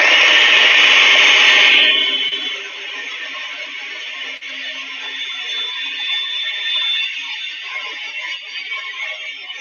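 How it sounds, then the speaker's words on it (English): An old, worn-out blender on its last legs runs with a loud, harsh grinding roar for about two seconds, then drops to a quieter, rougher, steady motor whir that continues to the end. Close up, with no talking. "let's see what's going on with my blender"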